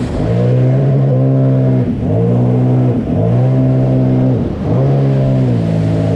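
A Sea-Doo Spark Trixx personal watercraft engine revs loud and close, surging and dropping in repeated cycles about every second or so as the rider rocks through wavies.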